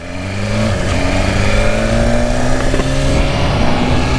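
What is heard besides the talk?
new faired BMW motorcycle riding out of the dealership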